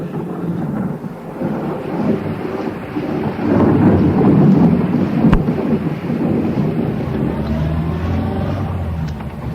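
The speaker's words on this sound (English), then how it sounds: "Then the storm began quite suddenly, and everything was thunder." A sudden thunderstorm in a radio drama: rolling thunder with one sharp crack mid-way over a steady roar of heavy rain and gusting wind, loud and continuous throughout.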